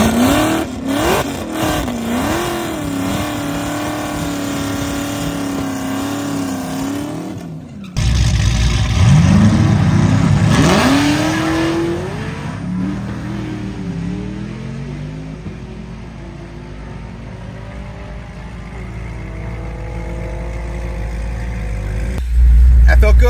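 A Cadillac wagon on a drag run, stripped of its light bars, its engine rising in strong acceleration with a sharp launch partway through, then sustained loud pulls and shifting revs close to the car.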